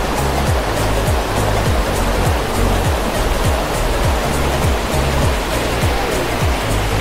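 A tall waterfall in Kashmir, with water dropping from high up, gives a constant loud roaring rush, alone and unbroken throughout.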